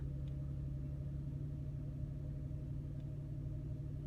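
A 2012 Infiniti G37 engine idles just after starting, a low, steady hum with a faint even rumble and no other sounds over it.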